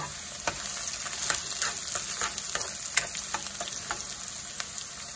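Onion and garlic sauté for chicken adobo, a bright continuous sizzle with quick spatula scrapes and taps against the pan repeating at an irregular pace, close and alone.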